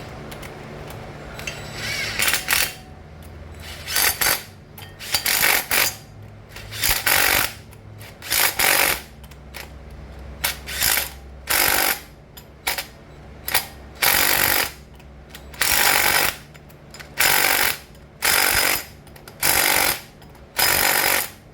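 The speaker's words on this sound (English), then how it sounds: "I've always been able to just drive them on with electric impact and be fine" Electric impact wrench driving flywheel bolts during a V6 swap into a four-cylinder Fiero, firing about a dozen loud, close hammering bursts of roughly a second each in a steady rhythm, with short pauses between them.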